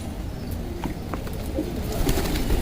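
Homing and wild pigeons coo in low, throaty calls, close by and fairly loud, over a busy rustling background with a few chirps.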